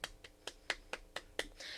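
A person's mouth or hands imitate the nonstop clapping of a care-home resident, giving seven or eight sharp, evenly spaced claps with no talk over them.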